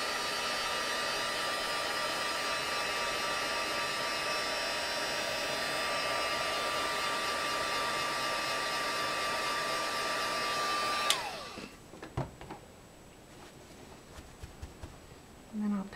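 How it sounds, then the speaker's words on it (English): A heat tool blows steadily for about eleven seconds, a loud whirring hiss with a high whine, drying Distress Ink on a paper flower, then cuts off abruptly, leaving faint handling clicks and rustles. "And then I use my heat tool and dry it."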